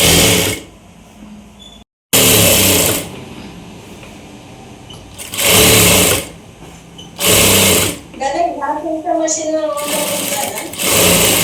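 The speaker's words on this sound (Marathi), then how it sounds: "गाऊनला इंटरलॉक नेहमी मारायचं" An interlock sewing machine stitches a night gown in several loud, whirring bursts of one to two seconds each, close by, and someone talks in the pauses between them.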